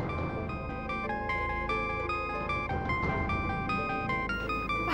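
A phone ringtone plays in an Indonesian TV drama, a bright repeating melodic tune of clear tones looping steadily for several seconds, close and moderately loud with no talking.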